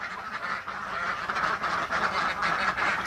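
Ducks quacking in a farm duck pen, a dense continuous chorus of many overlapping nasal quacks, fairly loud and close, with no talking.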